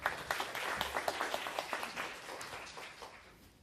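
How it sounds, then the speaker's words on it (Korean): An audience at a blockchain presentation session claps to welcome a speaker. The applause is fairly faint and sounds like a modest group with distinct individual claps, and it tapers off toward the end. "뜨거운 박수로 환영해 주시기 바랍니다."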